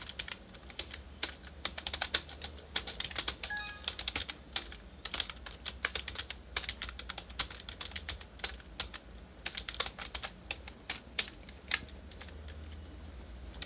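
Fingers type on a computer keyboard in quick irregular bursts of crisp close key clicks, steady throughout with short pauses and no talking.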